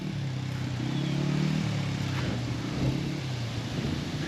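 A Honda XR80R dirt bike engine drones steadily at low revs while a kid rides, rising slightly in pitch then settling, close and continuous with no talk.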